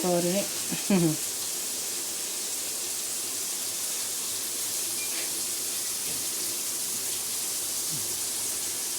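Masala-coated fish frying in hot oil with curry leaves gives a steady, dense sizzle throughout, with a brief voice near the start.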